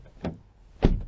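Two knuckle knocks on interior trim panels of a 2024 MG ZS, dull hollow taps a fraction of a second apart, the second louder and deeper, close and with no voices.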